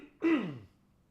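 A single short, rough cough bursts out once at close range and fades in under a second, with quiet around it.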